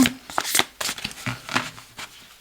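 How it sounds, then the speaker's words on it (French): Oracle cards being shuffled by hand in a quiet room, a dense run of soft papery riffles and slaps in quick uneven bursts, close and fairly loud, with no talking. "Je mélange bien les cartes"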